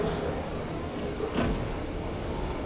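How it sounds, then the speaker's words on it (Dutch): Cars drive in the Fortnite video game, a continuous rumbling motor drone with a brief passing swell, heard at a moderate distance without talk. "Ik hoor auto's"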